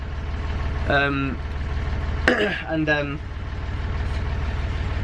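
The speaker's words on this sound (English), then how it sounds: "good news that I've been able to get the engine started" A sailboat's inboard engine idles steadily in the background, a low continuous rumble running through the whole stretch while a person talks over it.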